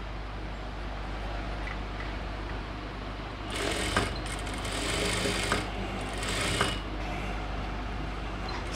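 A sewing machine stitches a chudidhar top in a short burst of rapid mechanical whirring, starting midway and pausing briefly, fairly quiet against a soft room hum.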